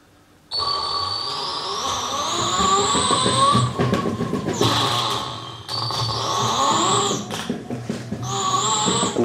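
An electric longboard with an open source ESC accelerates, reverses direction and accelerates again, its motor giving rising and falling whines and tonal sweeps over rolling rumble, close and fairly loud.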